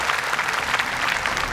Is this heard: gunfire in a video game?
no